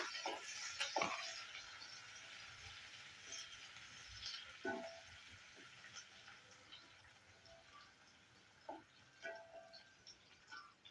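Onions and curry leaves sautéing in a pan for an anchovy fish curry, a low, faint sizzle with occasional soft stirring scrapes and clinks, steady and quiet throughout.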